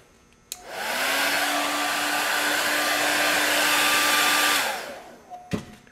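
A hair dryer whirs on, holds a steady close roar for about four seconds while drying latex old-age stipple makeup on a face, then winds down, followed by a few soft handling knocks.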